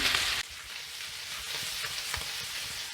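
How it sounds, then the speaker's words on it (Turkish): Mexican beans and corn stirred in a hot pan with ground rock salt and black peppercorns, a continuous close sizzle with soft scraping and stirring movements. "Ve mısırla atmış olduğum Meksika fasulyesi ısındıktan sonra yaklaşık 2 çay kaşığı öğütülmüş kaya tuzu, 1 çay kaşığı tane karabiber Baharatlarımı da güzel bir karıştırıyorum."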